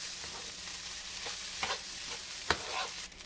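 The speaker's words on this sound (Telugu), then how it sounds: "చాలా కొద్దిగా టమోటో కెచప్, 1/2 టీ స్పూన్ కారం పౌడర్, అలాగే 1/2 టీ స్పూన్ గరం మసాలా, లైట్గా పెప్పర్ వేసి మిక్స్ చేసుకోవాలి." Egg fried rice with a little tomato ketchup, chili powder, garam masala and pepper being stirred in a hot pan, street-side style: a steady sizzle with a few scraping spatula strokes, fairly soft and close.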